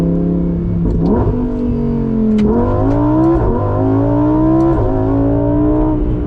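A Lamborghini Huracan EVO Spyder's naturally aspirated V10 revs hard and loud up through several gears, each pull rising in pitch before a brief dip at the shift, heard close from inside the open-top car.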